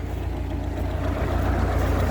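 A YuMZ tractor pulls a PLN plough through a field, its engine a steady, loud low drone with a faint rhythmic knock running throughout.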